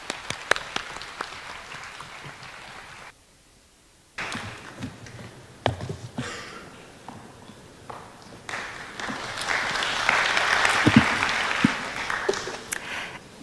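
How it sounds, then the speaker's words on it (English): Scattered clapping builds after a brief silence into steady applause from a crowd at a university summer campus graduation ceremony, swelling louder toward the end. "Please welcome her with a round of applause"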